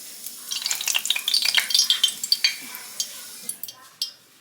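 A few drops of water hit hot oil in a Fry Daddy deep fryer, setting off a burst of sharp crackling pops that thin out to scattered single pops over a few seconds.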